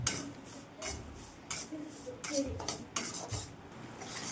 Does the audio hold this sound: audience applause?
no